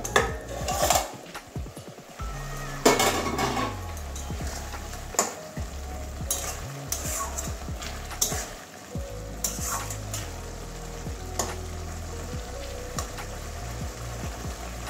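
Pointed gourd curry (potol chhechki) stirred in a pan after the lid comes off, with metal spoon scrapes and clinks against the pot over a steady frying sizzle, close and busy throughout.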